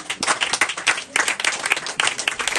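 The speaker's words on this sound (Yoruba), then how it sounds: "ẹ jẹ́ á pàtẹ́wọ́ fún Jésù" A funeral congregation claps together, dense ragged applause with a brief dip near the middle, steady and fairly close throughout.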